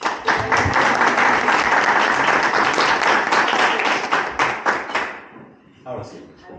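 An audience at a Mexico City air-quality talk gives a burst of dense, steady applause that fades out after about five seconds.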